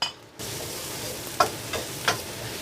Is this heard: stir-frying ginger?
yes